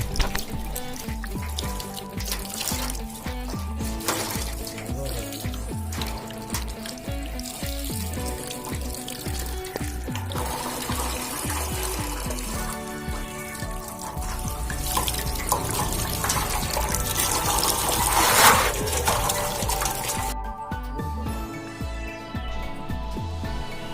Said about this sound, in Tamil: ஒரு வழியாக ஃபிஷ்ஷை நல்லா க்ளீன் பண்ணி வாஷ் பண்ணியாச்சு